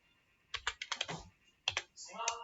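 Computer keyboard keys clicking as a password is typed during a Windows software setup, in two short bursts of quick, close, crisp taps separated by a pause.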